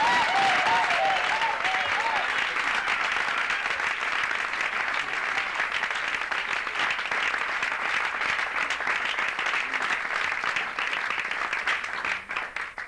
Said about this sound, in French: nous vous prions d'applaudir encore notre journée d'aujourd'hui